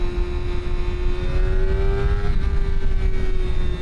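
A Kawasaki ZX-4RR sport motorcycle fitted with an Akrapovic exhaust holds a high, steady engine whine with a slight rise in pitch, loud and close, with no talk.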